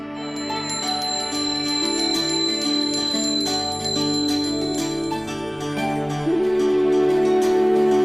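A bright metal prayer bell rings continuously and rapidly, its shimmering tones layered and sustained, close and fairly loud with no voices.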